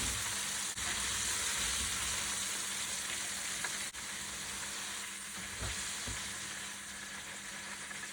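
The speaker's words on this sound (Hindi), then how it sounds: "एक से 2 मिनट दरमियानी आंच पर फ्राई करेंगे और फिर इन्हें निकाल लेंगे।" Bite-sized popcorn chicken pieces fry in hot oil over medium heat, giving a steady, dense sizzle that carries on without a break, fairly quiet and close, with a few faint clicks and no talking.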